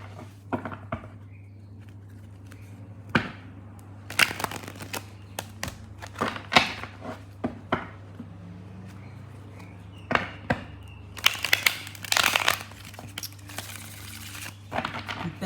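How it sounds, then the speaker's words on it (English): Tarot cards shuffled awkwardly, with scattered bursts of papery slaps and riffles separated by quieter gaps, close by over a low steady hum. "I'm bending over trying to shuffle these cards"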